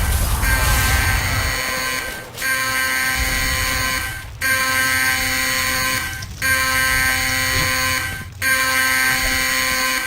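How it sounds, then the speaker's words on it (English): Loud alarm in the shooter game DDAY Normandy, a sustained electronic tone that stops briefly and restarts roughly every two seconds, over low rumbling. "I hate this alarm."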